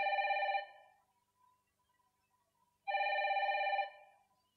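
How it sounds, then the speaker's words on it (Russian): A telephone rings in two bursts, the first cut short and the second lasting about a second, with a clear, fairly close electronic bell tone and silence in between. "Ты не возьмешь трубку?"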